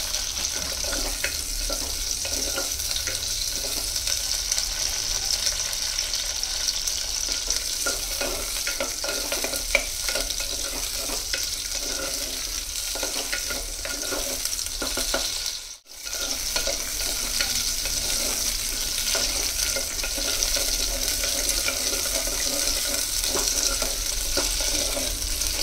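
Ivy gourd sautés in hot sesame oil with a steady, close sizzle and frying hiss for the whole stretch, plus a brief dip near the end. Soft stirring and scraping come through, with no talk.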